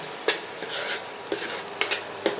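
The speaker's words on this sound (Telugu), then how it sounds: "ఇలా గోంగూర మనకి ఆయిల్లోనే అలా ఫ్రై అయిపోయి గోంగూరలో ఉన్న జిగురంతా బయటికి పోవాలి" Gongura leaves fry in oil in a pan for pulao, a steady close sizzle with a few sharp stirring scrapes spaced through it and no talk.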